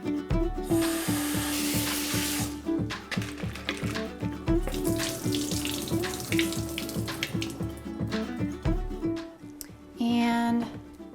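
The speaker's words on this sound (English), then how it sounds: "Now I'm going to give this a super quick rinse." Oyster mushrooms rinsed under a running kitchen tap, a steady close stream of water splashing into a sink for about eleven seconds with a brief shift in flow near the end, no talking.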